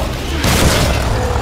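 A single heavy shotgun blast from the first-person shooter Shadow Warrior, a loud low boom that swells suddenly and lingers with a rumbling tail over steady game noise.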